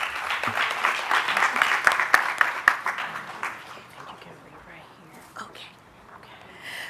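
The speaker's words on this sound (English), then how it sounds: "a round of applause for the collaborative efforts" An audience at an evening advisory board meeting claps loudly for a few seconds, then the applause thins and fades, leaving scattered claps and low murmuring voices.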